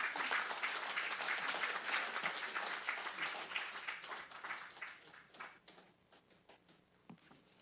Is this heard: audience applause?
yes